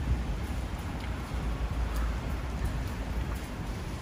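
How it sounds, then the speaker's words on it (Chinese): Steady, dense rain falls on a street in Sheung Shui, Hong Kong, during a typhoon with a yellow rainstorm warning, a continuous close hiss with no talk. "其實又真心講又不算很大雨咯，正常密的雨咯"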